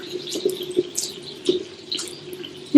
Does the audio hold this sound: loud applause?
no